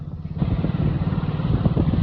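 A motorcycle runs over a rain-damaged, potholed road, its engine putting out a low, steady throb with a faint rattle close by, with no voices.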